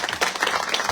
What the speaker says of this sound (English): So a big round of applause for Maria and our team.